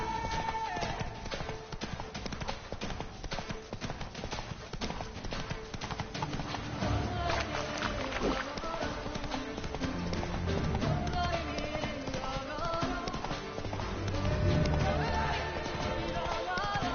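Hooves of Roach, the horse in the video game The Witcher 3: Wild Hunt (Blood and Wine), clip-clopping in a steady galloping rhythm, moderately loud under game music, with brief talk.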